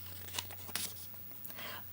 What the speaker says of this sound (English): Now we flip the page.